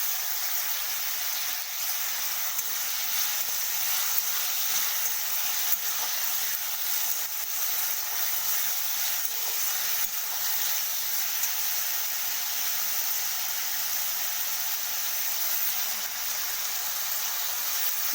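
Cabbage, beetroot and capsicum frying in a pan give off a steady, even sizzle and hiss that holds for the whole stretch, with no talking over it.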